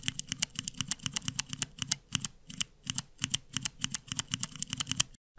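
Scratchy tactile mechanical keyboard switches pressed on a switch tester, dozens of quick clicky, scratchy presses in a fast irregular rhythm, close and fairly loud, with no talk, stopping abruptly at the end.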